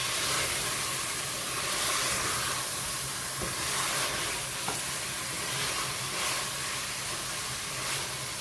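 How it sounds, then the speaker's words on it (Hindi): Masala for chicken haleem being bhuna-fried in oil, a dense continuous sizzle and hiss close by, with occasional faint scrapes of stirring. "अभी ये 10 से 12 मिनट हो गए मुझे इसको भूनते हुए।"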